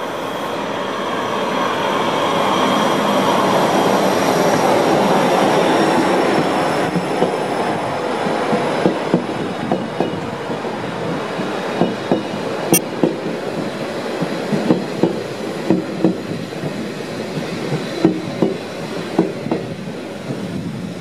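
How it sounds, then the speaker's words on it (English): Swiss regional train arriving on the Glacier Express route between Brig and Andermatt, a rising rumble that settles into steady clickety-clack of wheels over rail joints with a faint squeal, heard close with no talk. "arrival of the regional train to Viersch, Oberwald, Andermatt, Göschenen"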